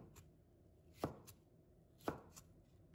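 A knife chops a red chili pepper on a cutting board, three crisp, evenly spaced thuds about a second apart, close and clear with no talking.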